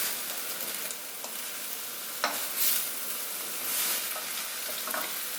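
A light summer pasta stir-fry sizzles steadily in a pan, a constant close frying hiss broken by a few stirring scrapes and clinks, with no talking.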